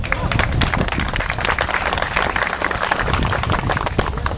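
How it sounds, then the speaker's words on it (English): A crowd at a groundbreaking ceremony applauding steadily, dense clapping filling the whole stretch at a constant level. "let's all give yourselves a round of applause"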